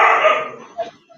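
Dogs bark and yip loudly at a doorbell indoors, a short burst of excited barking that fades quickly, with a voice talking alongside.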